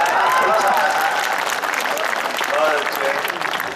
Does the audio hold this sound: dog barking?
no